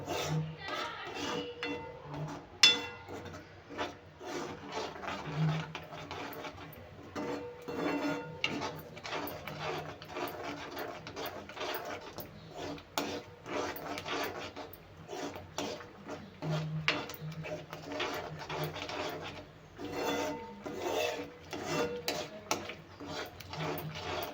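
A spoon stirs and scrapes a thick gravy masala in a pan, made with ghee, in a continuous run of close, irregular rubbing and scraping strokes with occasional louder knocks.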